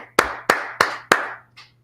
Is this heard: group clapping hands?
yes